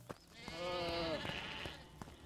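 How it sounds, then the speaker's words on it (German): Sheep bleat in the farming video game Deiland, one drawn-out wavering bleat, moderately clear over quiet game background with soft clicks and no talking. "die Schafe fressen meine Blumen."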